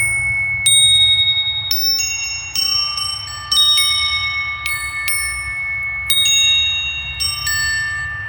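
A hand-crafted bronze windchime rings out in a series of struck tones, each ding sustaining and overlapping into a shimmering wash over a low background rumble, with several distinct strikes spread across the clip.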